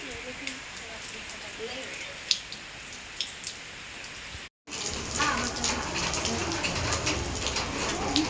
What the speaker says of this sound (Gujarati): મસ્ત વાવાઝોડા સાથે વરસાદ છે